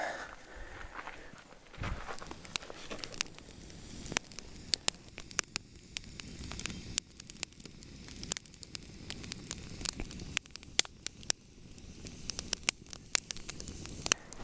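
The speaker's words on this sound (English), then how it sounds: "We just have to get our fire started. That way we can start getting a good bed of coals going." An outdoor campfire burning down toward a bed of coals for cooking trout, with irregular sharp crackles and pops over a soft steady hiss, close and fairly clear.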